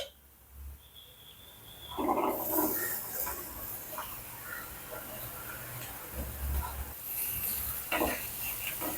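Bottle gourd sautéing in oil in a pan for poriyal, a soft sizzle with occasional stirring scrapes, fairly faint and close, with no talk over it.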